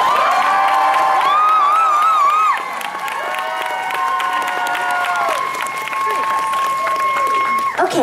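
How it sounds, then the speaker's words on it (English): A convention Q&A audience bursts into loud applause and cheering, with shouts and whoops over sustained clapping that eases slightly but continues to the end. "Okay, let's get a round of applause for Raven."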